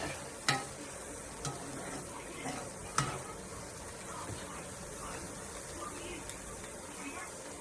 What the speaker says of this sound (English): Making a little man some eggs at camp on the wood stove.